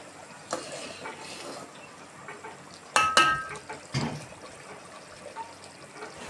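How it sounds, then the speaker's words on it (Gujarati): Soft bubbling and sizzling from a pot of potato gravy, with a few louder clinks and stirring scrapes near the middle; no voices. "અને હવે આ ગ્રેવીને આપણે ઉકળવા દઈશું"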